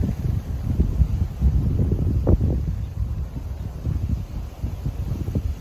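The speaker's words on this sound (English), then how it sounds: "the wind's hacking into this little bay here" Wind blows into a small lake bay, a steady rumbling gust buffeting the microphone with low roaring surges throughout and a brief rustle partway through.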